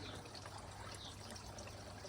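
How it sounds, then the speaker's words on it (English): Oil drains from a Harley Davidson motorcycle in a faint, steady trickle of liquid that runs on without a break. "flush the oil out."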